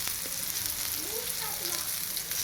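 Fish pieces frying in a pan, a continuous close hiss and crackle of hot oil with a few faint clinks, steady throughout.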